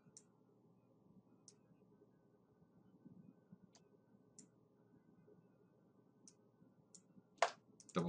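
A computer mouse is clicked while editing an image in Photoshop: faint, sparse ticks over a quiet room hum, then a quick, slightly louder click pair near the end.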